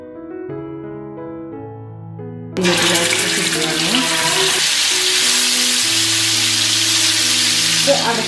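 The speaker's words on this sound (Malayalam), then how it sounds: "അടച്ചു വെച്ചിട്ട് ഫ്രൈ ചെയ്യാട്ടോ" Food fries in a covered pan with a loud, steady hiss that starts suddenly and carries on, while soft background music plays before and under it.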